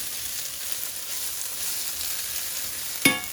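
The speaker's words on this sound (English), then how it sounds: "And stir all that in." Beef burgundy ingredients sizzle steadily in a hot pot for a few seconds, ending in a single sharp knock of the spoon against the pot.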